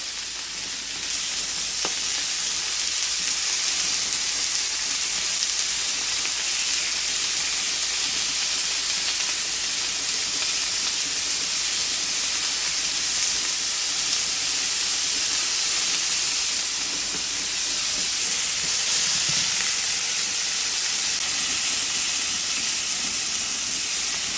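Thin beef chuck steak searing in a hot pan, a dense continuous hiss and sizzle that stays loud and even from start to finish, with no other sounds on top.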